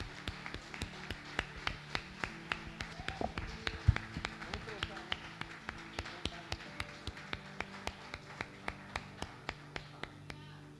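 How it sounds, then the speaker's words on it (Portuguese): A church congregation at a vigil service claps in a steady, evenly spaced rhythm, sharp hand claps repeating for several seconds while a voice carries on underneath. "Louve o Senhor com as suas palmas."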